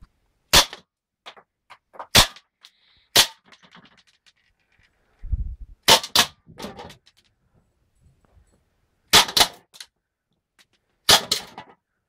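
An HG-190 airsoft gun fires 0.3 gram BBs at a Pepsi can, giving several sharp, loud cracks spaced seconds apart, some closely followed by a second snap from the impact, with faint talk between shots.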